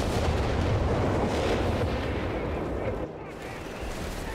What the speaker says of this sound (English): it's time for yet another barrage back here in base